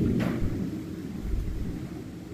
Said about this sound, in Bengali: তো হাওয়া বেশ জোরে জোরে জোরেই হাওয়া দিচ্ছে